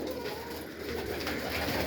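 Soft, low pigeon cooing repeats in a steady murmur against a constant background hum.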